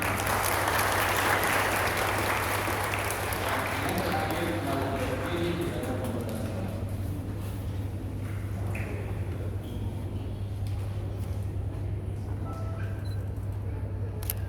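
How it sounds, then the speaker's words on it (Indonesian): An audience claps at an opening Mass celebration, a dense burst of applause that is loudest at the start and then gradually thins, heard over a low steady hum. "Sekali lagi tepuk tangan."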